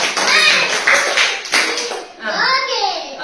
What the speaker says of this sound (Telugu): మీకు అందరికి క్లాప్స్ క్లాప్స్ క్లాప్స్